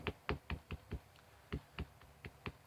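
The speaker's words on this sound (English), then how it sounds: "I'm going to stamp this on the inside." Rubber stamp inked in Memento Tuxedo black pressed onto the inside of a gate fold explosion card, giving a run of about ten sharp, close taps in an uneven rhythm with no talking.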